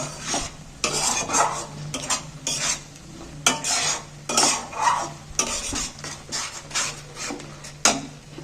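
Spinach paste with moong dal stirred and fried in oil in a pan, with a low constant sizzle under rhythmic scraping strokes of a spatula against the pan, about a dozen in quick succession, close up with no speech.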